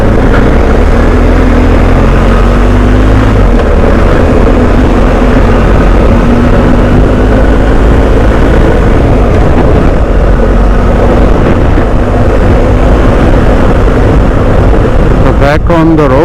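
A BMW R1250 GSA motorcycle with a top box cruises on an expressway, a steady loud engine drone and wind roar filling the whole stretch without a break.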